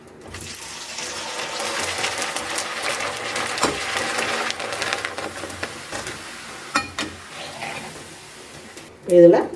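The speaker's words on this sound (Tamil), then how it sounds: "இப்படி அமுக்கி கொடுத்தோம்னா ஃபுல்லாகவே நல்லா பொரிஞ்சு வந்துடும்." Delhi-style exhibition papad fries in hot oil with a continuous crackling sizzle and bubbling, with a few sharper pops near the end, while a person talks over it.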